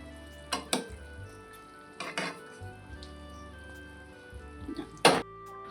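Chili paneer sauce simmering on medium heat and being stirred in a pan, with a quiet bubbling bed broken by several sharp clinks and scrapes of a spoon against metal.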